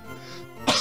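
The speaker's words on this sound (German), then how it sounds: "Der Husten kommt schon wieder durch." A single short, close cough or throat-clear bursts out at the very end of a brief quiet moment.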